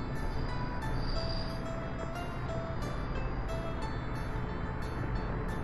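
A regional train rumbles steadily along the track in Workers & Resources: Soviet Republic, a continuous low rolling drone with faint periodic clicks and tones on top, no talking.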